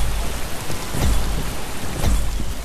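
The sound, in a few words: rain in the VR video game Boiling Steel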